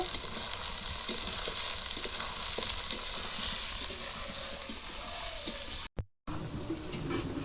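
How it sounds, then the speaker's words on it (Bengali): Onions and garlic fry in a pan for a chicken kosha curry, a continuous close hiss and crackle of sizzling oil with faint stirring knocks, broken by a short silent gap near the end. "এরপর আমি পেঁয়াজ রসুনগুলিকে লাল লাল করে ভেজে নেব।"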